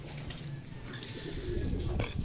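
A racing pigeon arriving at the loft after a 213 km derby race gives soft, low coos close by, over faint background noise.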